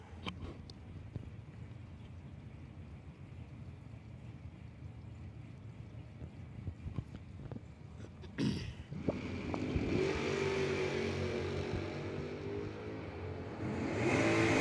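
A Camaro race car at a drag race, its engine droning under a noisy background before surging into a loud, sustained acceleration that keeps building to the end.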